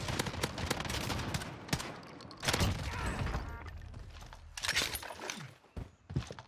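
M4A1 gunfire in Modern Warfare Warzone, several bursts of rapid shots with short pauses between, fairly close, mixed with game movement sounds.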